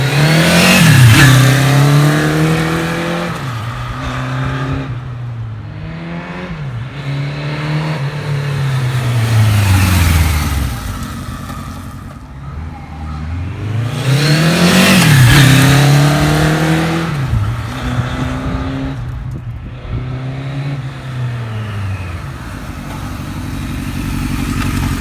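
Engine of a 1976 Kawasaki KZ900 motorcycle running close and loud, revving up and settling back in repeated swells with audible gear-like pitch sweeps.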